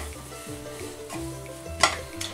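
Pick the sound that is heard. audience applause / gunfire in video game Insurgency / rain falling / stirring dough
stirring dough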